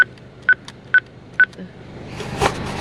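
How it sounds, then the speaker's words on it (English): Keypad beeps from entering a gate code at night, three evenly spaced short tones followed by rustling and a rising hiss. "I'm about to type in the gate code."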